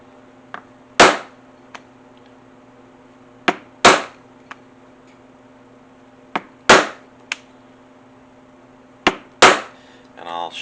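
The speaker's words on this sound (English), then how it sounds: "Punch my holes for my rivets." Sharp hammer blows driving a punch through leather to make rivet holes, in three spaced groups of a light tap followed by a heavy strike, close and loud with quiet gaps between.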